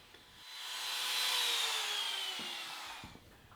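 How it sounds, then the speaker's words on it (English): A router cuts half-inch MDF in a workshop, a steady high whine that swells and then eases over a few seconds. Fairly faint and heard alone, with no talk. "So I'll need to make 2 passes with the router"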